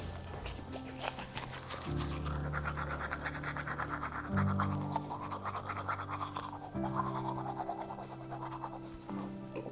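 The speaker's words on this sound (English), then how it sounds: "So I'm brushing my teeth." Close, quiet scrubbing of a toothbrush on teeth, with steady rhythmic bristle strokes and brief pauses, heard alone without talk.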